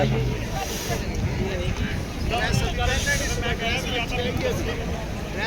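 Wind rushes across the microphone in a continuous low rumble on Mall Road in Shimla, with distant crowd chatter and voices in the background.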